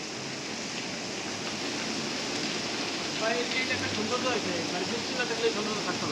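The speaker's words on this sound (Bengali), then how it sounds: "এটা কি পরিমাণ বৃষ্টি হচ্ছে এখানে দেখলে বোঝা যায়, মুষলধারে বৃষ্টি হচ্ছে" Heavy rain pouring down at night on Singapore's Sentosa island, a dense, steady hiss of water filling the whole scene with slight swells in the middle, no voices standing out.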